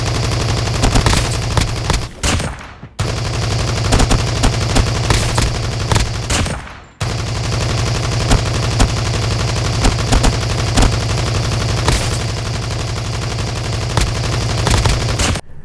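Sustained automatic weapon fire in a first-person shooter video game while aiming down sights, loud and continuous bursts with two brief breaks between long strings of rapid shots.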